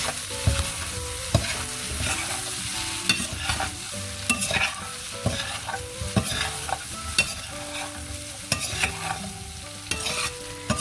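Spices being quickly mixed in a hot pan while making farrey, a loud close sizzle broken by repeated sharp spatula scrapes and taps against the pan, with no voices.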